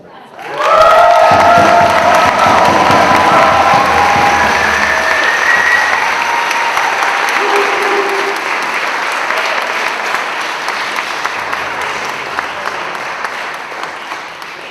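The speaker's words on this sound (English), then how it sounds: "Let's give them another round of applause." At an outdoor rent control rally, a crowd bursts into loud applause with cheers and whistles on top, then keeps clapping for more than ten seconds as the cheering gradually dies down.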